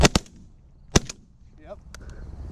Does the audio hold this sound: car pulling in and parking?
no